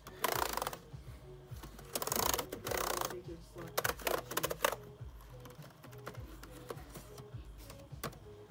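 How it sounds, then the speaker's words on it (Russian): Keys clatter on an Asus laptop keyboard during a test, bursts of quick close clicks separated by brief pauses, with a faint tone beeping in the background. "Проверка клавиатуры."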